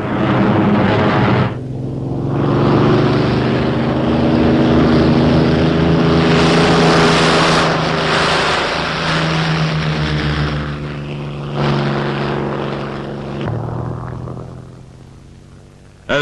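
A wartime US Army Air Forces fighter plane landing: a loud steady propeller engine drone with shifting pitch, briefly cut and then resuming, fading lower toward the end, no voices.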